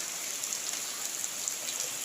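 Monsoon rain in Konkan patters in a constant close hiss, with small droplet ticks scattered through the steady wash.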